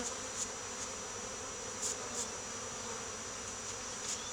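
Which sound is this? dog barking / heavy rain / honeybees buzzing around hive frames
honeybees buzzing around hive frames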